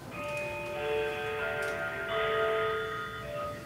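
A clock chimes with sustained, overlapping bell-like tones that ring for several seconds, heard alone in the background of an online board meeting call.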